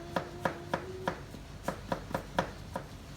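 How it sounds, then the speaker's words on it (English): A knife quarters a vegetable on a cutting board while stew is being prepared, giving about eight crisp, evenly spaced chopping knocks up close in an otherwise quiet kitchen. "I'm gonna cut it down to half, or put it in quarters"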